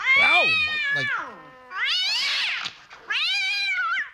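A cat meows loudly and close, three drawn-out, wavering cries with short gaps between them, the second rising and falling like an agitated yowl.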